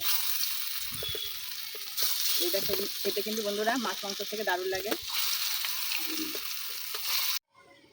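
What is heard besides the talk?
frying pointed gourd fritters in hot oil in a wok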